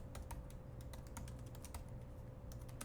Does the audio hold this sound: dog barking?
no